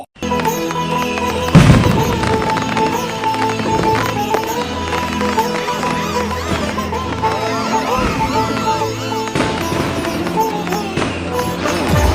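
Diwali firecrackers bursting during a family celebration: a sharp loud bang early on and another burst later, heard under steady music with voices around.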